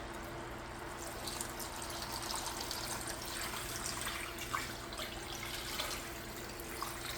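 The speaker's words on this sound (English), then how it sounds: "I'm going to add in water." Water pours into a pot for chicken broth soup, a faint, steady rushing and splashing that runs unbroken for several seconds, with no talking.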